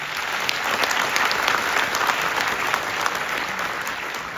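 Sustained applause from a large audience filling an indoor hall at a university graduation ceremony, steady and dense clapping throughout with no talking.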